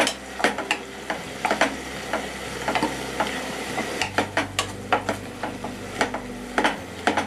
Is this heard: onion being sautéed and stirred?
yes